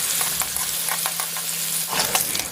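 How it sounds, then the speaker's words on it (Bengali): Shrimp fry in mustard oil in a pan, a loud, continuous bubbling sizzle with crackling bursts close up. "এবার সর্ষের তেলের মধ্যে চিংড়ি মাছগুলো আমি লাল লাল করে ভেজে নেবো"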